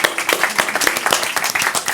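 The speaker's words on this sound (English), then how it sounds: "An applause." A conference audience breaks into applause after a talk, with brisk, distinct claps from nearby hands forming a lively, even burst with no voices.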